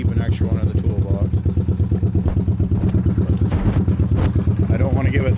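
A Honda 185s motorcycle fitted with a Chinese 200cc high-compression piston idles steadily with a loud, rapid, even thumping beat, close up, while someone talks over it.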